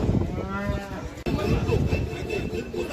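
Cattle low at the Qarabulak livestock market, with a drawn-out moo near the start rising over a steady murmur of market crowd and chatter that continues throughout.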